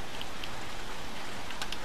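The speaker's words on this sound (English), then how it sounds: "And now it's raining." Rain falls in the video game Little Nightmares 2, a steady dense hiss of drops with a few faint patters on top, alone and without talk.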